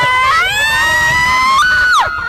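A person screams on an amusement park ride in one loud, sustained wail that holds steady, rises and then drops off sharply near the end.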